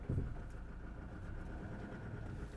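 A Land Rover Defender 110 County Station Wagon engine idles steadily after starting, giving a low, even rumble close by with no talk over it.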